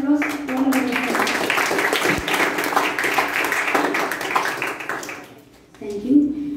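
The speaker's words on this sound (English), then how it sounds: "give a big round of applause" Youth leadership meeting audience gives a round of applause: a few seconds of dense clapping that fades out, with a voice speaking briefly before and after.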